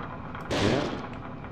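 A short burst of gunfire from a weapon in the 2004 video game Second Sight, one loud shot cluster rising suddenly from a steady game background and fading quickly.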